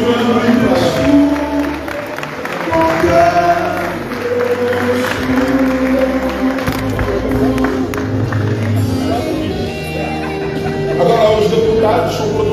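A crowd applauds at an official signing ceremony for UNITA deputies, a steady sustained clapping with murmuring and a voice over a loudspeaker running underneath.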